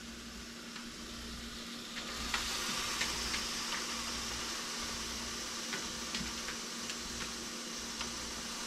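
Deer bacon burger patties sizzle steadily in a pan, a loud, continuous close-up frying hiss with faint ticks and pops scattered throughout.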